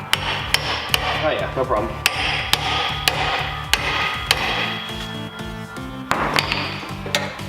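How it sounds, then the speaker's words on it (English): A hammer taps a part onto a 1973 VW Beetle engine during reassembly, a rapid series of sharp, loud metallic strikes close by, with brief casual speech in between. "Let's see if I can just tap it on."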